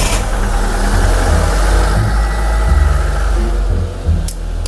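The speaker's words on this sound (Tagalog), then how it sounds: "pinagana natin yung makina, pinay-start natin" Mitsubishi Lancer engine, battery running low, turning over and settling into a rough idle, a loud close rumble with uneven low throbbing and slight revving swells.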